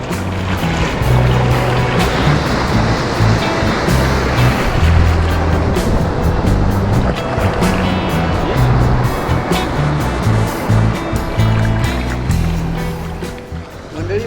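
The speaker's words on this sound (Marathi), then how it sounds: "समुद्राच्या पाण्यातून फेसाळणाऱ्या लाटा अतिशय सुखदायक व रिलॅक्सिंग अनुभव देत होत्या" Continuous rumbling wash of sea waves with heavy low-frequency buffeting, loud and close, like surf churning along the shore at Devbag, Malvan.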